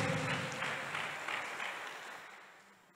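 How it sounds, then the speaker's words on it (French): An audience at a French-and-English church service applauds the King of Kings, steady broadband clapping from a crowd that holds strong and then gradually fades toward the end, with no voices over it. "Clap for the King of Kings."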